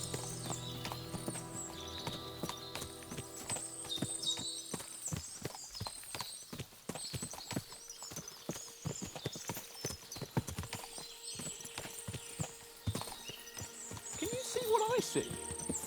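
Horses' hooves clip-clop in Kingdom Come: Deliverance II on PS5: a dense, irregular run of close hoofbeats with an occasional whinny and voices in the background.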